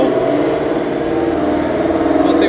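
A Ford Mustang runs on a chassis dyno, a loud steady engine drone with a rising whir held for the whole moment.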